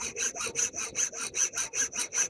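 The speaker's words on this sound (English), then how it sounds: "we'll begin by shortening the dowel" A handsaw cuts to shorten a wooden dowel, likely radiata pine. About a dozen rhythmic, evenly spaced rasping back-and-forth strokes, close and clear, with no talking.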